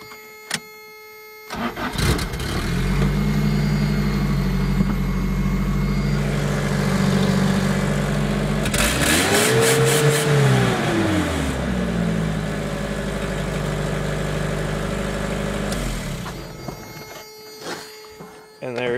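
A homemade utility truck's engine cranks and catches, then idles roughly before a single rising-and-falling rev, settling back to idle and shutting off near the end, loud and close.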